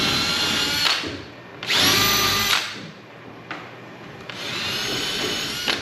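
A power drill with a Forstner bit bores a shallow hole, about 3/8 inch deep, into the wooden back of a removable fireplace surround, whining loudly in several close bursts with brief pauses between.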